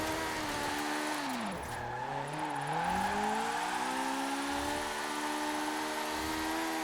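A racing car engine in Forza Horizon 4 revs high past 10,000 rpm and steady, its pitch dipping then climbing again through the gears, loud and continuous with no talking.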